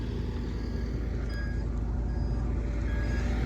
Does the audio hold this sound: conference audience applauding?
no